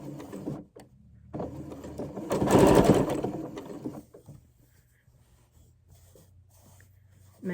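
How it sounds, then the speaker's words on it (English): A sewing machine stitches a tee shirt neckline: a few short stitches, a brief back stitch, then a louder steady run of mechanical whirring that fades to quiet handling sounds. "I'm going to take 2 or 3 stitches, keep my needle down, back stitch, and then I'm just going to sew"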